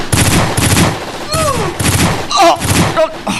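Gunfire crackles in rapid bursts of repeated shots, loud and close, with whistling ricochet-like tones between volleys during a battle scene.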